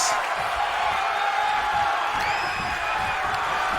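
Wrestling crowd in an arena cheers and roars steadily, a dense continuous wall of noise with a few whoops rising out of it.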